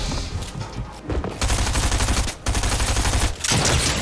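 Pump shotgun blasts in the Fortnite video game, several sharp booming shots spaced apart amid busy game noise and other gunfire, loud and close with no talking.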